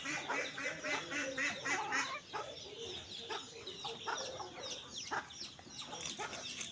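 A native rooster being slaughtered at home gives repeated loud clucks and squawking calls in close, agitated bursts throughout, with wing and body commotion underneath.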